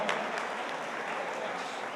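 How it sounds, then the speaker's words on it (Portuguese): A crowd at a public meeting claps in a dense, steady round of applause that lasts about two seconds. "precisamos dar uma salva de palmas para todos vocês que estão participando aqui do Encontro do Novo"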